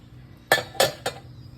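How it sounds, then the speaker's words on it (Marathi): Three sharp metallic clanks in quick succession as the lid of a pressure cooker holding cooked dried peas is worked open, loud and close against a quiet kitchen. "कुकर तर आता मी उघडून बघते"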